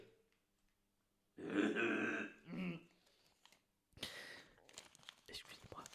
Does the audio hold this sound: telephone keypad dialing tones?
no